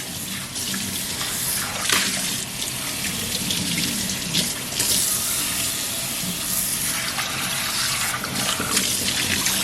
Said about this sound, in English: after I do that, I give it a good wash.